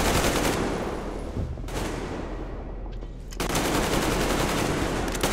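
Automatic gunfire from the shooter Metro Exodus, loud sustained bursts of rapid shots filling the whole stretch, with a brief lull in the middle before a heavy barrage resumes.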